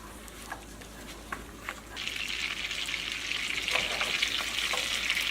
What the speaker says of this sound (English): melt your butter.